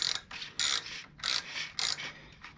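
Ratchet wrench with an 11/16 socket loosening the oil filter nut on a Harley-Davidson M8 Softail Low Rider ST, four quick bursts of close, crisp clicking separated by short pauses.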